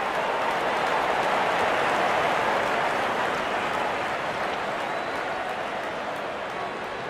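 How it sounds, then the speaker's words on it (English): Cricket crowd at an England v Ireland match applauding a batsman's fifty, a dense, steady wash of clapping from a large stadium audience that slowly fades over several seconds. "Wonderful 50, and the crowd applauds."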